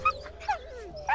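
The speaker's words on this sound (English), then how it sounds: "We gotta play with puppies. Play puppies now." A wolf pup whimpers in the video game WolfQuest, giving a few short, high, wavering yips and whines, close and fairly quiet.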